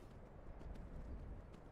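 Horse hooves gallop in a video game, a steady, fast clip-clop rhythm of soft thuds running continuously at low volume.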